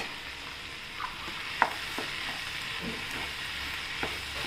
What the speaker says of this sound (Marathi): एक टोमॅटो टाकूया, हलवून घेऊया.